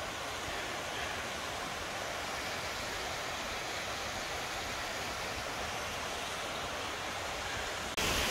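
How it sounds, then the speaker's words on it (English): A small waterfall on a creek beside a hiking trail pours in a steady, unbroken broadband rush, loud and close, holding constant for the whole stretch with no voices. "Just another little waterfall on the trail."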